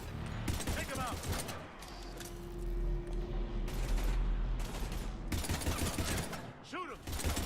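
Video game gunfire, rapid bursts of shots and mechanical clatter running through most of the stretch, mixed with shouted voices and background game noise.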